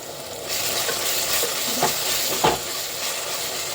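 Ginger paste and two small bay leaves fry in a pan for chicken biryani, a continuous close sizzle broken by a few scraping stirs, with no speech.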